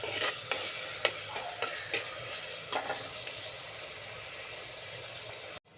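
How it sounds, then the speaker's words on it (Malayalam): Food sautés in a hot pan under constant sizzling, with repeated scrapes and taps of a spoon stirring it. The sound is close and steady, with no talking, and cuts off abruptly just before the end. "നന്നായിട്ട് വഴറ്റി കൊടുക്കണം"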